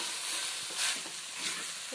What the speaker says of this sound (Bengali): ধনে পাতাটা দিয়ে দেওয়ার পর আমি কিমাটা সাথে মিশিয়ে নেব।